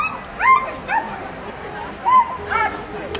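Sled dogs at the start of a Grande Odyssée Savoie-Mont-Blanc race stage in Les Gets, giving several excited yips, whimpers and short barks in bursts, fairly close, while a commentator talks over them.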